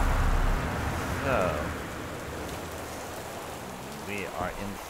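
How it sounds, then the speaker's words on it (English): Steady rain falls outside a building in the video game Gone Home, a soft continuous hiss heard from indoors, with a brief voice-like sound near the middle and faint tonal sounds near the end. "we are inside a building and it's raining outside"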